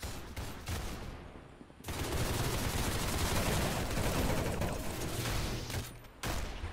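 Dense rapid gunfire from Arsenal, the Roblox shooter, pours out in loud sustained bursts with brief gaps, firing nearly continuously and close up.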